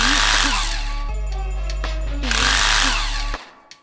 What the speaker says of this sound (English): Next, I'll tighten the loose screws.